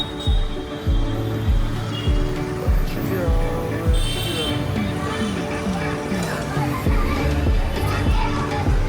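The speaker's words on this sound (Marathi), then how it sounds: "लहान पोरं कसं खेळतात बघा. यांचा आवाज ऐकून आम्ही मध्ये आलो." Children playing and shouting in a busy Pune street near an old building, their voices mixed into a loud, continuous crowd and traffic din with passing vehicles and people talking throughout.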